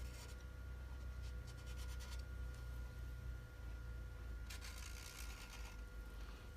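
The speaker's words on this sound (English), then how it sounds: "I'm going to draw a circle around my speaker." A pen or marker scratching steadily across a broken headphone housing, tracing a circle around the speaker, heard up close with bursts of faint scribbling strokes over a low background hum.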